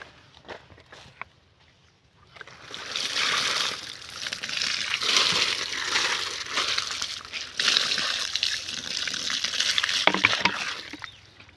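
Water drawn from a well is poured onto garden plants and splashes onto soil and leaves in a steady rushing stream. Quiet handling noises come first, then the pour runs for several seconds and surges twice.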